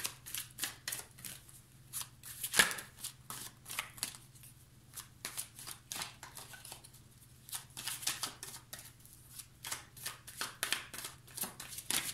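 Tarot cards are shuffled close by in a quiet room. Soft riffles and slaps run on for about twelve seconds in uneven bursts, over a faint low hum.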